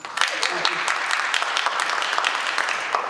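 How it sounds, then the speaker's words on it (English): Applause fills a candidate forum hall, dense and fairly loud clapping from the audience that holds steady throughout with no voices on top. "Thank you for that applause."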